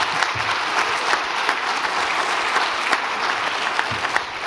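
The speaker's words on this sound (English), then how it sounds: "We clap now" Sustained audience applause at a leadership prize ceremony, with dense, steady clapping from a large crowd continuing without pause throughout.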